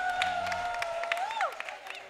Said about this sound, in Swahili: Na kama uko mahali hapa nisikie makofi na vigeregere.